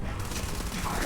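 Gunfire from a video game, dense and continuous like a rapid volley, filling the whole short stretch at steady moderate loudness with no clear talk over it.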